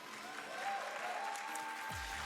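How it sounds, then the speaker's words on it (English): Soft, distant clapping from an audience at a speedrunning charity event, fairly faint and steady, with a brief low tonal sound near the end. "Give yourselves a round of applause for meeting that."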